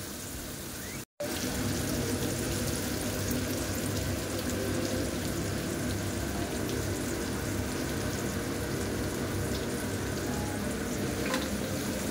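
Tandoori chicken pieces roast in a hot pan, giving a steady, close, even sizzle that runs unbroken except for one brief cut near the start.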